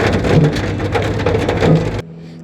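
Heavy rain falls on a very rainy day as a dense, steady patter and hiss that stops abruptly after about two seconds, leaving a quiet low hum.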